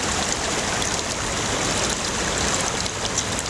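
Water in the East Fork San Gabriel River rushes steadily past, a loud, continuous broadband flow with no talking.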